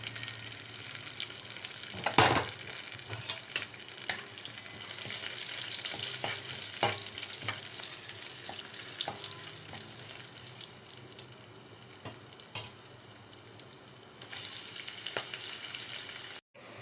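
Onions, green chillies, mint and kasuri methi fry in oil with whole spices inside a pressure cooker, a steady close sizzle broken by occasional spoon scrapes and taps, with a brief louder stirring burst early on.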